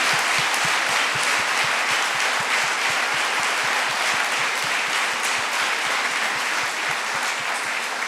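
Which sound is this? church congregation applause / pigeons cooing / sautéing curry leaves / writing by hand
church congregation applause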